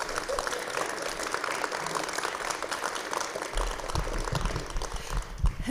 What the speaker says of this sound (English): Would you give Jerome Garrison a big round of applause?